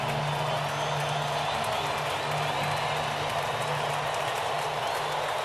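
A baseball stadium crowd on a Tuesday night, Dollar Dog Night, cheers and applauds steadily at a distance, forming a continuous broad roar without distinct peaks.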